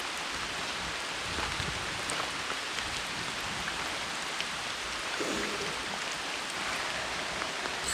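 Steady rain falls through an Ozark forest in autumn, a soft, even hiss with faint scattered drops and no voices.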